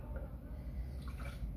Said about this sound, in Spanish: vamos a diluir con un poquito de agua